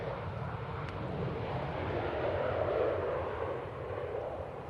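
An airliner landing at Manchester Airport sends a steady, broad engine roar that swells slightly and then eases, heard from a distance outdoors with some wind noise.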